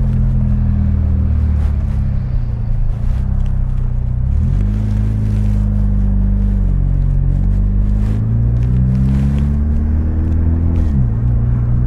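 A Mitsubishi Evo X with an SST gearbox drives along with a loud, steady engine drone from inside the car, its pitch rising and then dropping at a gear change from first to second.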